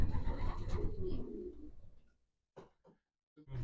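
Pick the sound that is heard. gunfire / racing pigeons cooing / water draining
racing pigeons cooing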